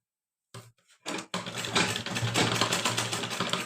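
After a few short starts, a sewing machine hums in a continuous close run as it back-stitches lehenga fabric.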